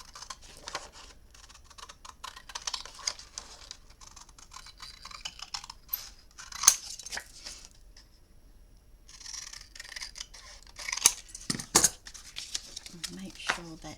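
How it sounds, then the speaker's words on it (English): Material is cut by hand along a drawn line, staying just inside it, giving faint, scattered snipping and scraping clicks close by, with a few sharper snaps near the end and quiet gaps between. "I'm going to cut it inside the line"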